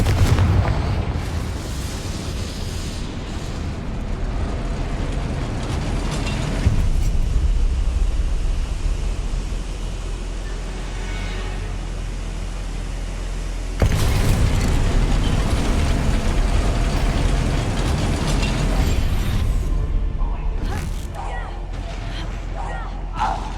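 Confringo spell blasts in Hogwarts Legacy, heavy booming explosions rolling over continuous loud combat noise, with characters' voices heard in the mix.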